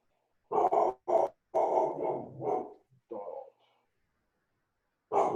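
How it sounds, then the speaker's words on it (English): A dog barks during an online council meeting, several sharp barks in quick succession followed by a growl, loud and close, then a pause and another bark. "Who's barking?"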